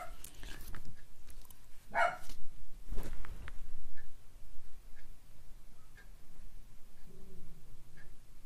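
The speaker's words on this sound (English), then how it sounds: "The dogs upstairs are barking again." Dogs bark upstairs, muffled and a little distant, in a few scattered bursts, along with a soft regular ticking and faint indoor bumps.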